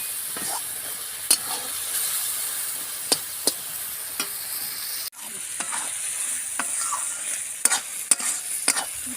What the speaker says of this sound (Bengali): ভালো করে মশলাটা কষবো যতক্ষণ না মশলা থেকে তেল ছেড়ে দেয়